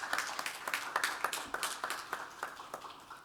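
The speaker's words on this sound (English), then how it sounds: "please, round of applause for the Auburn Avenue Library" A small audience at a book fair event claps for a library. Individual hand claps stand out as distinct, fairly quick sharp bursts that taper off slightly, suggesting a modest group rather than a large crowd.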